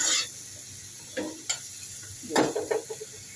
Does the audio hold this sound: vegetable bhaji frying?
yes